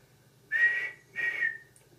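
Percy the small tank engine sounds his steam whistle in a cartoon, two short clear toots, fairly quiet, with a brief pause between them.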